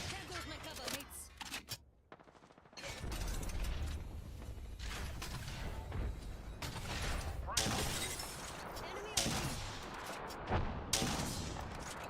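A grenade explosion and gunfire during a ranked Apex Legends match: a brief quiet gap, then loud clattering bursts, shattering cracks and mechanical rattles that continue densely to the end.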